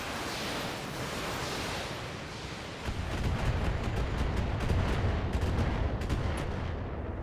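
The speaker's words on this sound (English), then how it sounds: "That guy took a crazy missile barrage" A mech missile barrage in the BattleTech video game, heard as a dense roaring wash of explosions that swells partway through, with rapid crackling impacts layered over it and no talk.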